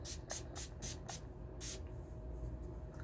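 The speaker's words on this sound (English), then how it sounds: "just spray that on my face and then use my setting spray" Makeup setting spray mists onto a face in a quick series of short, bright pump bursts, about five spaced hisses, then a longer spritz, close and fairly quiet in a still room.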